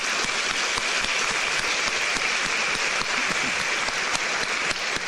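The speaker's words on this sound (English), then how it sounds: "So give yourself a round of applause" Sustained applause from a seated audience at an American Chamber of Commerce event in Taiwan fills the room, dense and even throughout with no pauses.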